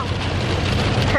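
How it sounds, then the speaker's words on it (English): Rain falls steadily outdoors as a dense, even hiss of drops with a wind-like rush, brief and close to the microphone. "A little bit of rain to finish off the adventure."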